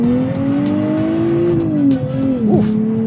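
A 2023 Nissan Z in sport mode on a race track accelerates hard, its engine note climbing steadily then dropping sharply at quick gear changes, loud and close throughout.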